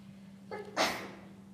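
A single short sneeze in a public board meeting room, fairly faint, with a quick breathy intake followed by a sharp burst, set against a quiet room hum.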